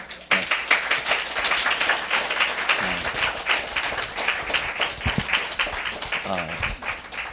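A church congregation at a missionary service claps in warm, uneven applause, with crisp individual hand claps standing out from the crowd and occasional voices mixed in.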